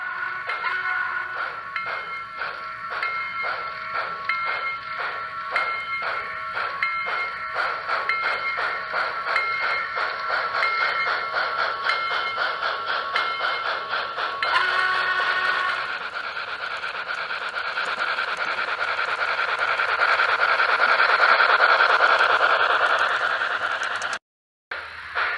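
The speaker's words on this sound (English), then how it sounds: "chuff sound intensifies with load" An N-scale Broadway Limited model steam locomotive (Paragon 4 line) runs with continuous rhythmic chuffing and clattering mechanical sound effects, steady and fairly loud throughout, building slightly in intensity toward the end with no talking.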